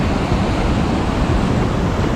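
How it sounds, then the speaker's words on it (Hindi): Glacier meltwater river rushing near Kedarnath in the Himalayas, a loud, dense, continuous roar of turbulent water close by. "तो पानी का बहाव देखो यार, ये सीधा बर्फ़ का पानी पिघल के आ रहा है।"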